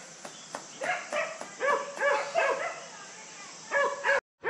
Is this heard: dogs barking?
yes